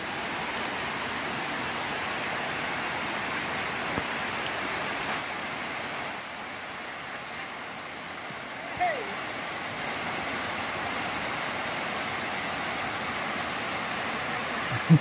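Steady rain falling near a waterfall at Jidi Mamidi in Visakhapatnam district, a continuous broad hiss of rushing water throughout, with a faint voice barely audible beneath it.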